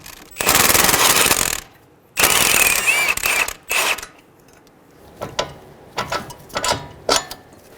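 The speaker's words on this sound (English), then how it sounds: "Using a 24mm wrench to hold the head of the bolt, we'll use a 22mm socket to remove the nut." A 22mm socket on a ratchet or power tool loosens the knuckle nut on a CV axle of a 2003-2008 Honda Pilot in short loud mechanical bursts. Clicking, ratcheting rattles come close by, separated by brief pauses.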